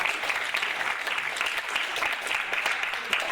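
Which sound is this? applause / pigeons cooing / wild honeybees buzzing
applause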